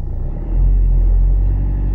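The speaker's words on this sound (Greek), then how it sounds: "Λοιπόν, πατάω λίγο γκάζι" A petrol car engine idles low, then rises into a steady, louder rumble as the accelerator is pressed during a driving lesson, holding the raised revs to the end.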